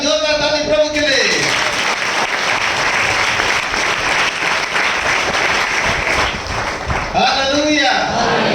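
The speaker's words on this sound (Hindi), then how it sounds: "एक बार जोरदार ताली प्रभु के लिए।" A church congregation breaks into loud, sustained clapping for the Lord, dense and continuous, with a voice speaking briefly at the start and end.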